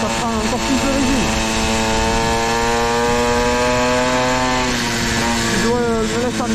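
A modest scooter setup running 17-gram variator weights holds a loud, steady high-rev engine drone close by, the pitch wavering slightly as the throttle shifts.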